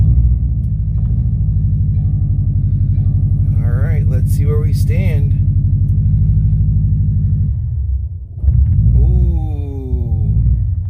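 A stock or untuned Subaru WRX with a freshly installed blow-off valve idles with a loud, close, steady low rumble, and someone speaks over it briefly.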